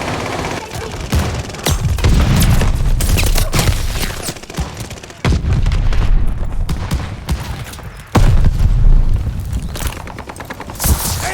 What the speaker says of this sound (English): Enemy shells coming in hot.